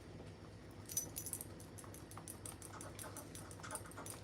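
A dog scratching on someone's lap indoors, collar tags jangling in quick bursts close by, with faint panting and rustling between, quiet and intimate.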